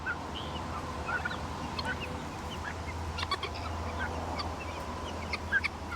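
A sociable pet turkey and other fowl call in short, scattered gobbles and honks at mid-distance over a busy outdoor background, with no voices.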